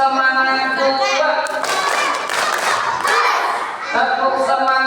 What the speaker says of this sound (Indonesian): tepuk semangat dua